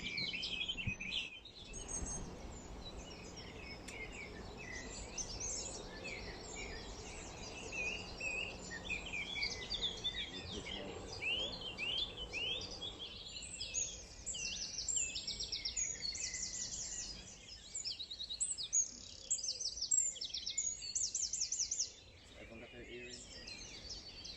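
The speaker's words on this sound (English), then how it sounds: "Another little summer warbler, tiny little brown bird." A small brown summer warbler sings repeated high, rapid warbling phrases, fairly near, during a UK dawn chorus, over a faint steady background hiss.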